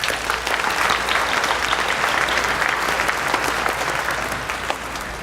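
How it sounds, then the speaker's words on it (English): At a U.S. citizenship naturalization ceremony, the audience bursts into loud, sustained applause, many hands clapping in a thick continuous roar that stays strong throughout and eases only slightly near the end. "Let's give them all a round of applause."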